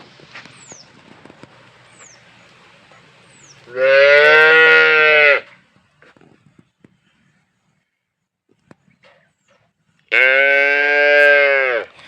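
A Jersey cow gives two long, loud, close moos several seconds apart, with faint bird chirps and quiet farmyard noise in the gaps between them.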